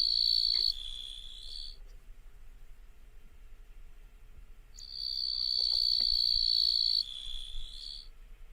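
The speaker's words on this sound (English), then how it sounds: "So that is a katydid." A recorded katydid calls in two long, loud buzzing trills separated by a few seconds of quiet background hiss, each trill held steady before cutting off.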